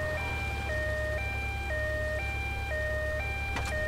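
An ambulance siren in the GTA Vice City video game wails in a loud, steady two-tone alternation, cycling evenly back and forth over a low rumbling engine bed with no talk.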